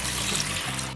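A litre of 3.2% fat milk pours into a bowl in one brief, steady liquid gush with a splashing, watery texture.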